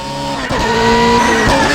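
A BMW M3 GTR race car engine screams at a steady high pitch while overheated rear tires slide and squeal on the Nordschleife in Assetto Corsa, the roar briefly dipping then surging back, loud and close.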